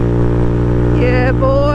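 A Honda Monkey bike fitted with a Yoshimura exhaust, held at the rev limiter: a loud, steady, buzzing engine drone with rapid stuttering pulses and a rising whine, close and continuous.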